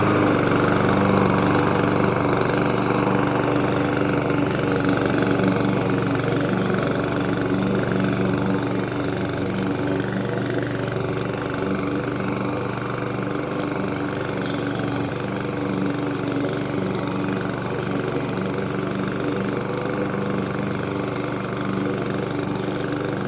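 A 2020 Toro Super Recycler lawn mower, Model 21385, runs with its petrol engine at a constant speed. Its close, steady mid-pitched drone and rattle continue for over twenty seconds with no talking.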